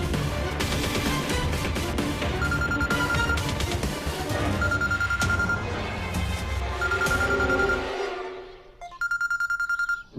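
A telephone rings with a steady electronic tone pattern, rising over a musical drama score and then sounding clearly on its own in repeated bursts near the end.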